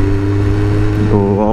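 An old Mini car goes past on a road on a sunny day, its mid-pitched engine humming steadily and close by, with a rising note near the end as it draws past; a voice is heard over it.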